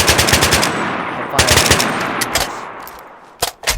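Rapid FAL rifle fire from a modded video game, loud close bursts of repeated shots in quick rhythm, pausing then resuming with a few final sharp shots.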